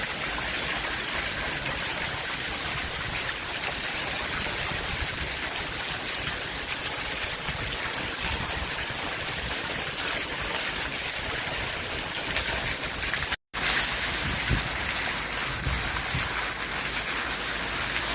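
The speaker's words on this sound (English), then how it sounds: "Raining cats and dogs, guys." Steady, dense Jamaican downpour hissing continuously, with a brief dropout near the end before the roar resumes.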